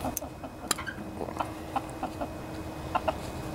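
A chicken clucks near the microphone during a riding lawnmower carburetor repair. Short clucks and scratchy taps come in an irregular series over a low background hum, with no talking.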